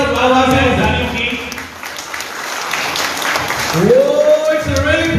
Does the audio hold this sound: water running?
no